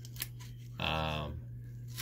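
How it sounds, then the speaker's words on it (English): Scissors trimming the taped edge of a foam boffer sword, one crisp snipping cut midway through, set against a low steady hum with a faint tick beforehand. "we'll just take a pair of scissors and kind of trim this"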